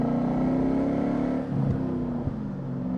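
A 2003 Ford Mach 1 with a 4.6 V8 and five-speed manual drones loudly from inside the cabin, engine note dipping briefly as it shifts from second to third before pulling steadily again.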